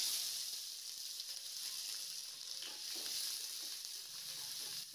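Steady crackling sizzle of mustard seeds popping in hot oil, continuous and close, with occasional brighter spits.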